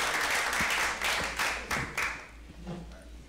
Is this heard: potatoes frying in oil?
no